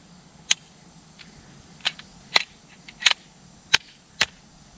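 Pistol shots fired at a small silhouette target: six sharp, separate reports at irregular intervals, each a crisp crack standing out against a quiet outdoor background.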